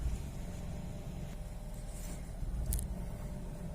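A car pulls away slowly after the handbrake is released, its engine giving a steady low hum at close range with no talk over it.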